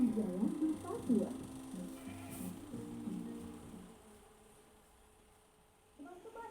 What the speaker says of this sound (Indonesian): Teman-teman, awas! Ada lebah!